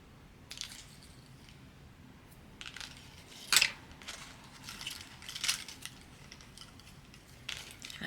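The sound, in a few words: cutting paper for an Alaska junk journal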